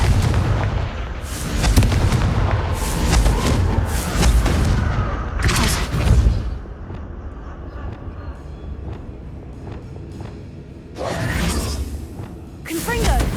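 Confringo fire spell blasts in Hogwarts Legacy, several loud booming bursts with whooshing tails in quick succession, mixed with game ambience and a voice calling out.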